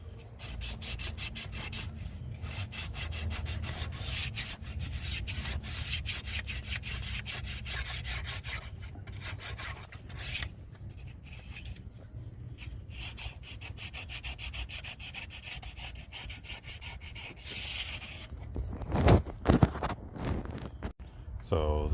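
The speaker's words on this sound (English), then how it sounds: "wrap it in fine sandpaper, 320 or finer, and then use that to clean the surfaces" Fine 320-grit sandpaper wrapped around flat stock scrubs back and forth over engine mating surfaces on a 7.3 Powerstroke diesel, a continuous close rasping rub that ends in a few louder knocks.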